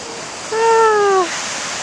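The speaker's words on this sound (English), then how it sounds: "the surf is trying to get us" Ocean surf washes up on a beach at Long Beach, Washington during clam digging, a steady, loud broadband rush of water heard close, with a brief shouted voice rising over it partway through.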